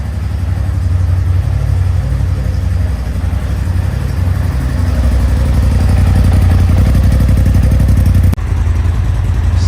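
Polaris RZR Turbo S engine idling steadily while it warms up after a misfire, a loud, close, continuous low rumble with fine clattering texture and a brief dip near the end.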